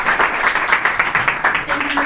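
Audience applause follows the closing of a podcast talk at an #impact event on the power of audio, a steady wash of clapping running for about two seconds at moderate level.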